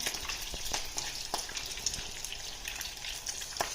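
Steady crackling sizzle of tuna patties frying in hot oil, with scattered sharper pops throughout and no voices.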